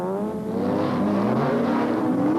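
Race cars, a Ford Escort among Porsches, roaring at high revs through a chicane on a circuit, one loud engine note climbing steadily and close by, no voices.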